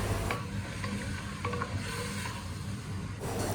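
Mutton is stirred into sautéed onions in a pot for a one-pot mutton pulao, a continuous close hiss and sizzle with soft scraping and clinks of the spoon against the pot, no voices.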